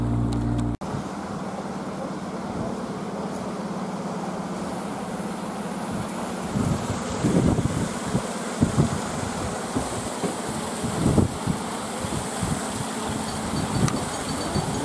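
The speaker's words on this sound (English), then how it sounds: "it's too windy" Steady, roaring wind buffets the scene throughout, with loud gusty bursts swelling in the second half.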